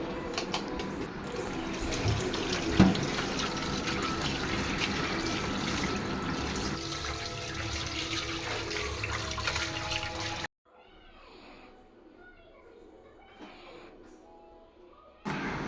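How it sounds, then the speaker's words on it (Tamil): Running tap water pours over raw chicken meat being washed in a home kitchen, a steady rushing splash that lasts about ten seconds before cutting off. Fainter handling noises follow over a quiet background. "வீட்டில் நம்ம வாங்கின கறியை நல்லா 2-3 தடவை வாஷ் பண்ணி எடுத்துக்கலாம் சுத்தமாக"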